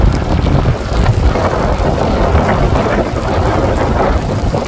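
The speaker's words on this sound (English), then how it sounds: "wind's blowing pretty hard at this point" Strong gusts from Tropical Storm Ophelia on the eastern North Carolina coast roar steadily into the microphone, a loud continuous rumbling buffet with no letup and no voices.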